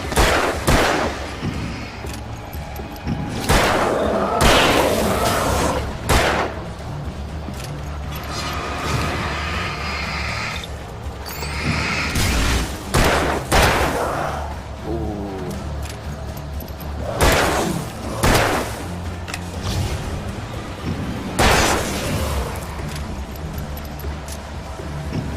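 A player firing a gun in Alan Wake lets off repeated loud, sharp shots at irregular intervals over a steady, rumbling game ambience.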